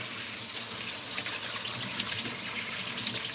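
Tap water runs steadily over salted duck breast and country sausage in a sink, a constant close splashing hiss with no talking.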